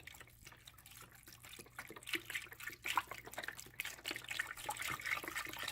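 Organic chicken broth is poured into a pot of greens, a soft continuous splashing and trickling of liquid, quiet and close, with no talking.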